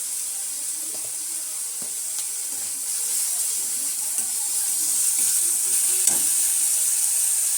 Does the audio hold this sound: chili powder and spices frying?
yes